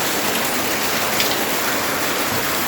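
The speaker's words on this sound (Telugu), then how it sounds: "చూసారా గైస్ ఎంత వర్షం పడుతుందో" Heavy rain pours steadily in Kerala, a dense, continuous hiss of drops hitting surfaces close by, loud and unbroken with no voices over it.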